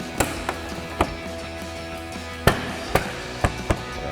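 Plastic trim panel clips on a Ford Bronco snap into place, a series of sharp, close clicks and taps spaced irregularly with quiet gaps between them.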